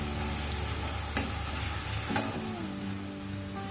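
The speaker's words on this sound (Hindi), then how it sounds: "इन आलुओं को बराबर चलाते हुए इनको हमको गोल्डन कलर में करना है" Potatoes fry in hot oil for namkeen mixture, a steady dense sizzle with a few sharp scrapes of a spoon stirring the pan, close and continuous with no voices.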